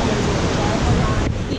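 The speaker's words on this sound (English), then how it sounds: "waterfall over there." A small waterfall near Niagara Falls gives a steady, close broadband rush of falling water, with a brief dip near the end.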